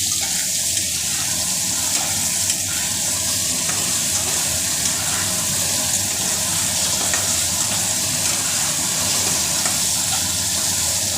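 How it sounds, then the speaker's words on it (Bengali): Pieces of taro (kochu) frying in a pan with salt and a little turmeric, giving a loud, continuous close-up sizzle that holds steady throughout with no break and no talking. "কচুটাকে ভাজা ভাজা করতে দিলাম"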